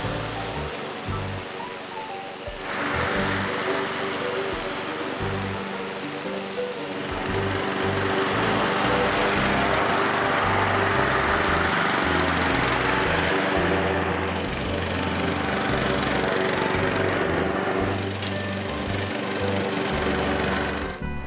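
A Husqvarna LC356 AWD lawn mower runs continuously while mowing grass and throwing clippings into its collection basket, a steady buzzing engine drone that grows louder and denser after the first few seconds.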